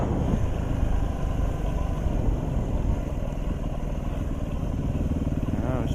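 A motorcycle runs along trails near Fairbanks, Alaska, during the wildfires. Its engine drones loud, close and steady throughout, with a rough, continuous rumble.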